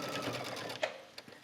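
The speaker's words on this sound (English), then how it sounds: "Or you can stitch it right on the edge of the waistband." Sewing machine stitching along the edge of a skirt waistband, a close steady whir that stops with a couple of small clicks at the end.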